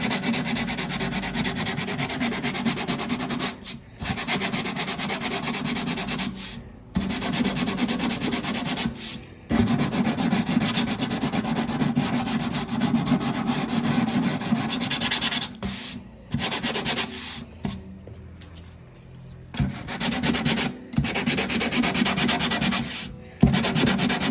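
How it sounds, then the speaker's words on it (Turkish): Continuous rhythmic rasping of sandpaper rubbed back and forth over the wood of an oud being repaired, close and steady, broken by a few short pauses. "Bir de zımpara geçtikten sonra işlemimiz tamamlanmış olacak."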